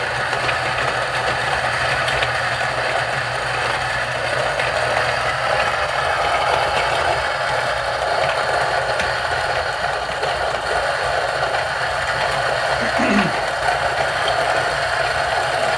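A Niche coffee grinder runs steadily on coffee beans at grind setting 43, a loud continuous motor whir and grinding hum lasting throughout without pause, close to the microphone.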